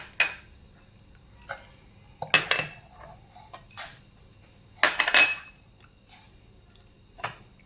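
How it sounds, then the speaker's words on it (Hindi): Whole spices, black peppercorns, star anise and fennel seeds, clink and rattle against a dry pan as they are tossed and roasted for beef nihari, in sharp intermittent bursts over a quiet background. "अब इन मसालों को सबसे पहले हमने जो है पैन में डाल के भून लेना है"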